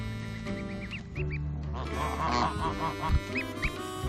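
A mother goose and goslings honk and quack repeatedly at close range, a busy overlapping chorus of calls with soft rustling underneath.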